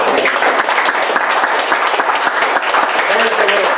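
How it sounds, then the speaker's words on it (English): A church congregation claps hands together in praise during a Sunday service, a dense, steady wash of applause filling the room from start to finish, with voices mixed in. "Give the Lord a hand clap."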